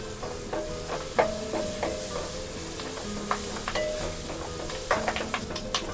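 Curry leaves sizzle and crackle in hot oil while a spoon stirs them, giving a steady frying hiss broken by sharp pops and scraping taps. No one speaks.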